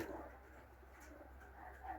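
Pigeons at an evening feeding coo softly in a birdhouse loft, a low murmuring call repeating at a faint, steady level over quiet background noise.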